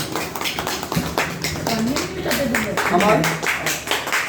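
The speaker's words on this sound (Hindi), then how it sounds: "ताली बजाइए" Audience at a community society appointment event clapping in a loose, scattered burst of taps under a voice addressing the crowd.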